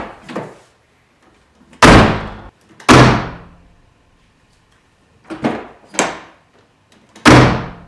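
An MK3 Supra door, window lowered, after rattle fixes, swings shut repeatedly: several loud, close slams in uneven succession, each decaying quickly, with softer clunks between.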